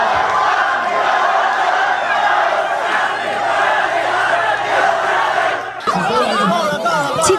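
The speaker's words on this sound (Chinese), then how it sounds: "等候已久的小草们兴奋地又叫又跳，民众党党公职们振臂欢呼" Taiwan People's Party supporters and officials gathered outside a detention hearing cheer and shout loudly as a packed crowd, sustained roaring yells with excited chatter, rising into sharper close cries near the end.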